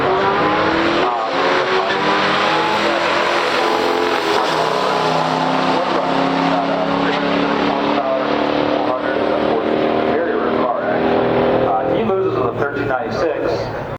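A 1968 AMC AMX and a 1970 Pontiac GT-37 in a stock quarter-mile drag race, engines roaring loudly and steadily as they accelerate down the strip, with a shift in tone near the end.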